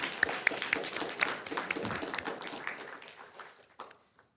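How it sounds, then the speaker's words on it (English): An audience at a spelling bee claps for the candidates, a fairly faint patter of hands that thins out and dies away over a few seconds. "Give a round of applause for the candidates."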